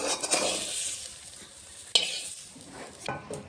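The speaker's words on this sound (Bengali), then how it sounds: "মূলোটা ভাজা হওয়ার মধ্যে আর একটু হলেই নামিয়ে দেবো।" Radish frying in a pan, a soft steady sizzle with stirring scrapes and a sharp utensil clink near the middle, close and alone.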